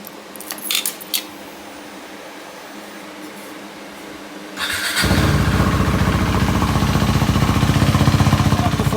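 Keys jingle briefly before a KTM 390 Duke motorcycle engine starts and keeps running steadily to warm up, loud and close, with no talking.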